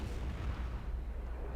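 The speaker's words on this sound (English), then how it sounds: "They exploded." Deep, rumbling explosions from the Jade Empire video game roll on continuously, loud and bass-heavy, with no clear gaps between blasts.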